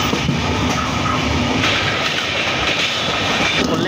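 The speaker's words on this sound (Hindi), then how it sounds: "दोस्तों ये ट्रेन जो आ रही है ना, कोलकाता की लोकल पैसेंजर ट्रेन है" Kolkata local passenger train running on rails, a steady loud rumble with rattling wagons and a faint clickety-clack throughout, close and continuous with no voices.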